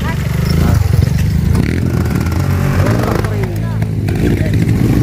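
An enduro motorcycle engine revs on an endurocross track at Bueno, Capas, Tarlac. Its steady buzzing drone rises and falls throughout, close and loud, while people talk over it.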